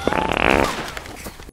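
Arthur, a cowboy character in a video game, lets out a loud, wet, sputtering fart of about one and a half seconds that sounds close up and stands alone.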